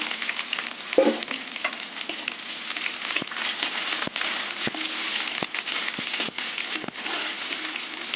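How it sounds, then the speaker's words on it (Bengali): Chopped onions and garlic sizzle steadily in hot oil in a pan, a constant bright frying hiss with occasional crackles and stirring clicks, close and alone throughout. "পেঁয়াজটা একটু ভেজে নেব"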